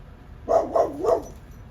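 A dog gives a quick string of three short, near barks in a yard where squirrels are about.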